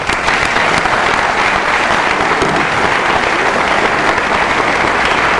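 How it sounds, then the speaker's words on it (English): Steady, dense applause from an athletic awards audience honoring assistant coaches, continuous and loud throughout with no pauses or voices on top. "So I'd like to give you a round of applause for all you've done."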